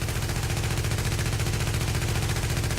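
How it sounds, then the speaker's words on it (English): Rapid, continuous automatic gunfire from the Ellie gun in The Division plays on a shooting range, an unbroken dense rattle of shots at steady loudness for the whole stretch. "We're going to start shooting with the Ellie."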